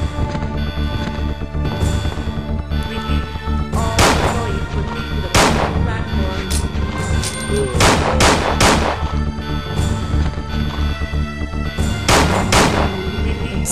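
Handgun fire in the zombie survival game Resident Evil 2: about eight loud, sharp shots at irregular intervals over a constant background drone, with no talking.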